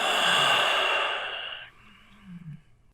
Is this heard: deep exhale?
yes